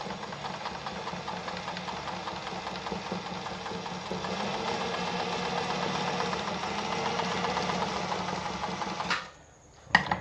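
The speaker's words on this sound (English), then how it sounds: "So sewing my straight stitch now." A Pfaff 260 sewing machine sews a straight stitch with a steady, close mechanical whir and needle clatter for about nine seconds, then stops abruptly, leaving near silence with a final small clunk.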